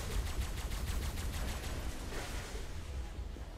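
Rapid automatic gunfire aimed at turrets in Ark, a fast, evenly paced stream of shots that is loudest at the start and softens slightly toward the end.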